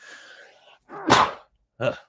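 A sharp, loud sneeze bursts out after a quieter stretch, followed by a short second sniffle or breathy sound.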